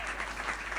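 Audience clapping at a Hindi comedy poetry show: a short, dense burst of steady applause from a crowd, even in level throughout.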